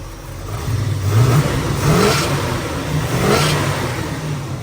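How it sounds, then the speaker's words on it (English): The 427 V8 of a 1966 Chevrolet Chevelle with a big cam revs up and drops back a few times, loud and close, with a rough, lumpy idle between the blips. "got a nice 427 under the hood, big cam"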